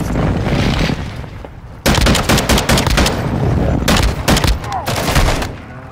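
Call of Duty: Modern Warfare 2 DMZ firefight: scattered shots, then a sudden loud stretch of rapid automatic fire with sharp clustered bursts, close and dominant.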